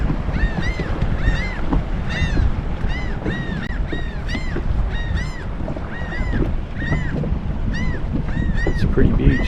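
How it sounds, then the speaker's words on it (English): Waves lapping near a beach with the boat's engine off, a watery wash under repeated honking calls from geese or similar birds, with some voices in the background. "capture the sounds of the waves and birds and such"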